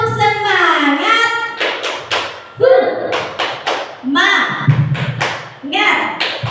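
Rhythmic hand clapping in an Indonesian 'tepuk semangat' clap chant, several sharp claps in quick patterned groups interleaved with a group chanting the words, close and loud.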